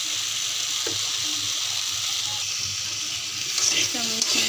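Spice paste with ground chili and crushed green chili frying in a pan, a steady broadband sizzle throughout, close and continuous, with a few faint clinks of a utensil near the end.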